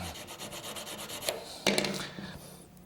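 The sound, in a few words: sharpening the blades of a Ring Master machine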